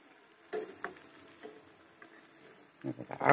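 Grated raw potato fritters fry in a pan of hot oil, giving a faint, steady sizzle with scattered soft pops and ticks, and a few louder crackles near the end.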